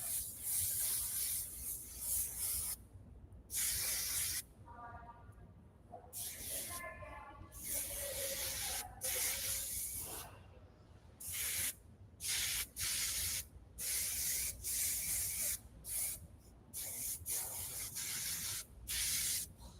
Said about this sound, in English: I use a lot of hairspray.